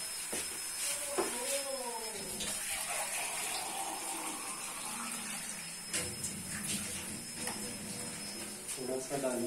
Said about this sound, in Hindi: देखिए फ्रेंड यहाँ से ले लेते हैं पानी